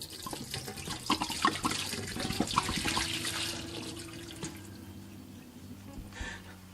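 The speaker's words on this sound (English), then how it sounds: "so now we got cold brew down the drain" Cold brew coffee splashes and gurgles as it is poured down a sink drain, close and continuous, then tapers into quieter trickling and drips.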